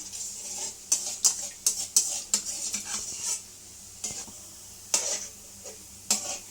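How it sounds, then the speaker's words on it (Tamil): A ladle stirs gulab jamun frying in oil on a medium flame, giving sharp metallic clinks and scrapes in irregular bursts over a soft continuous sizzle, close and without talk. "கரண்டி வச்சு எண்ணெயை கலந்து விட்டுக்கிட்டே இருங்க ஸ்டவ் ஃபுல்லாக மீடியம் ஃப்ளேம்லேயே இருக்கட்டும்"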